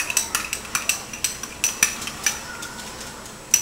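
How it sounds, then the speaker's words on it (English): A metal spoon scrapes and clinks repeatedly against a dish while garlic butter is spooned over gumbo, a close, rhythmic series of bright taps with no talking. "I'm going to go ahead and pour this all over that with a spoon"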